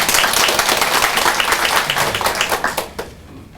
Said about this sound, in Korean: 우리 주님 앞에 영광의 박수 다시 한번 올려드립니다